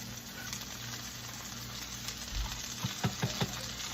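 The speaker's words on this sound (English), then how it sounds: "we got it on high heat right now. We're going to sear the top and the bottom." Seasoned steak searing in a hot pan on high heat, a steady close hiss of sizzling throughout, with a few soft knocks and taps near the end.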